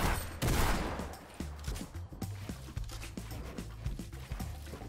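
An automatic sniper rifle fires in the video game Fortnite: a rapid run of evenly spaced shots rattles along at moderate volume, close and continuous, without speech.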